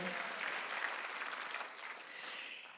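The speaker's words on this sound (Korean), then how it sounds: "박수를 치며 하나님께 영광을 내시라" Faint, distant congregation clapping in a church Sunday service, a soft, even patter of many hands sustained for a few seconds and fading slightly toward the end.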